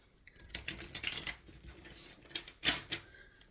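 Tarot cards being shuffled by hand, close crisp bursts of riffling and tapping in irregular clusters.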